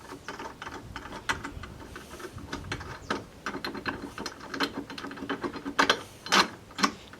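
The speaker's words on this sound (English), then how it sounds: "Screw that through" Bolt being screwed through a mount while fitting a side awning to a Jeep, a ratchet clicking in quick repeated bursts with metallic ticks and rattles, close and fairly loud.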